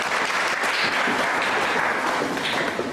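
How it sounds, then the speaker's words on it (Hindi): Studio audience applauding on a Pakistani entertainment show, a dense, steady burst of clapping that holds loud and even throughout, with no voices over it. "उमेराइल के लिए बहुत सारी तालियां"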